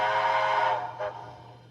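A steam whistle from a Rapido USATC S160 model steam locomotive sounds once, a loud sustained harmonic tone that cuts off and trails into a faint echo, over a steady low electrical hum, not the factory-programmed whistle.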